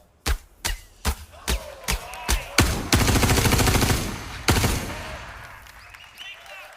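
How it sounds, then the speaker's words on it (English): Bullets fired into a water puddle in a Star Citizen engine demo: a run of about eight loud, separate shots at steady intervals, then a sustained rapid burst with splashing, and one last sharp shot. "And then this next demo, we're going to fire some bullets."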